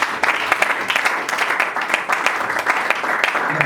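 A congregation applauds in acclamation of the king, a dense, steady wash of clapping hands that carries on without a break and stays fairly loud.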